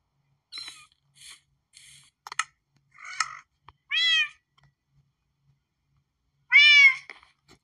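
Cats meow in the video game Minecraft, a scattered series of short chirps and mews followed by a couple of louder, longer meows, close and clear against silence.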